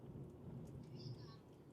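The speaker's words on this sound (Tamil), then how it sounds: "மழை சரியான மழை பெஞ்சிட்டு இருக்குது" Heavy rain pours steadily in a continuous dense hiss, faint and even throughout, with no other distinct sounds standing out.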